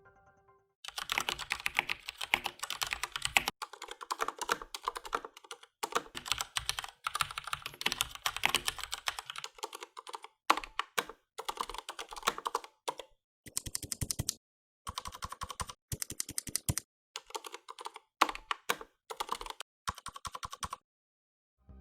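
Rapid typing on a Durgod K320 tenkeyless mechanical keyboard with Cherry MX Silent Red switches, soft muted keystrokes in quick bursts separated by short pauses, close up with no voices.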